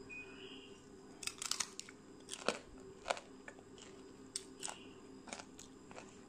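Close, crisp crunching bites and chewing of boneless smashed fried chicken (ayam geprek) with garlic chili sambal, in scattered irregular bursts with no talking.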